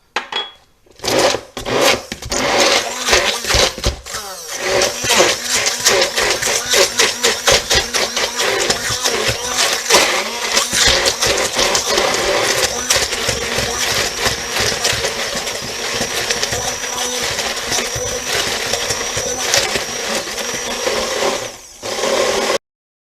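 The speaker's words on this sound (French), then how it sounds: "Donc je vais venir mixer le pain dans le lait. Je vais y rajouter les 2 fromages." A kitchen blender whirs loudly and steadily for about twenty seconds, pureeing bread soaked in milk with two cheeses, starting with a short burst and running continuously before cutting off near the end.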